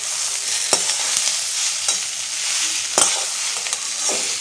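Tomatoes, slit green chillies and turmeric stirred in a hot frying pan, a steady close sizzle punctuated by several sharp scrapes and clinks from the spoon, with no one talking.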